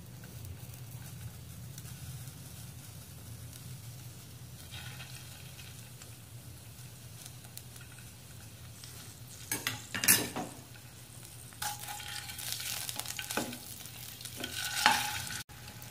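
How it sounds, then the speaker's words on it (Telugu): Eggs fry in a little oil in a kadai, a low steady sizzle with a few clinks of utensils and bursts of scraping near the end, fairly quiet and close. "బాండ్లీలో కొద్దిగా ఆయిల్ వేసుకొని గుడ్లు వేయించుకోవాలండి."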